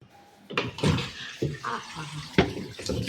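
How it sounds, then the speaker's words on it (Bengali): Water from a faulty pipe splashes and pours into a container, with an uneven gushing stream and several sharper splashes, loud and close, while a voice talks over it at times. "জলটা ভেতরেই পড়লো গো, পাইপটাকে উঠিয়ে রাখি, পাইপটা না কি একটা গন্ডগোল হয়েছে"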